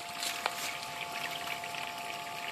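Filtered water from a man-made stream trickles and pours back down into a fish pond, a steady close burble with light splashing.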